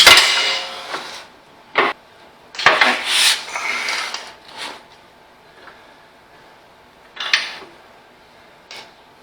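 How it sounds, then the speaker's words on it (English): The drawbar of an Allis Chalmers WD45 tractor is worked into a snap coupler in a workshop, giving several sharp metallic knocks and clunks with scraping between them, close up with quiet gaps. "Now the drawbar can go in. It'll pop into the snap coupler."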